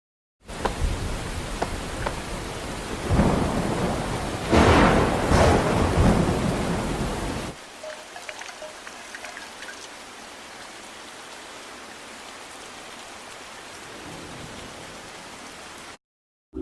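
Heavy rain pours loudly before a night climb on the Eiger, with rumbling swells early on, then drops to a softer, steady hiss of rainfall with no talking.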